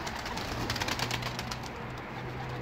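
Pigeons in a small coop cooing nearby, soft low throaty coos repeating over a busy bed of rustling and shuffling, with no talk.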